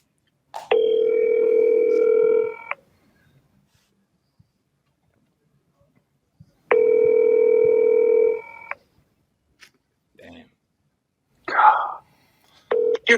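Electronic tones play over a telephone line in two long, steady beeps of about two seconds each, loud and clean, with short clicks and a brief voice fragment after them.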